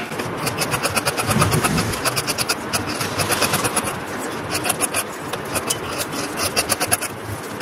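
Scissors cut through chudidar top fabric in a close, steady run of rapid rhythmic snips over a dense rustling background, with no speech.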